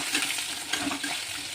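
Prawns go into a pan of oil with onions that have fried to a reddish brown, producing a steady, hissing sizzle with small crackles, close and continuous over a short moment.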